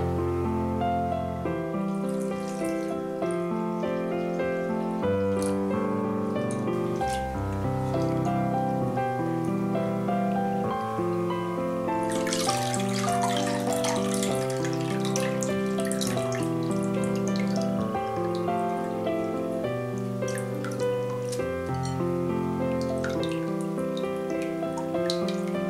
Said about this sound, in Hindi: एक बार और पानी डालेंगे।